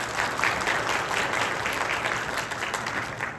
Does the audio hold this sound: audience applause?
yes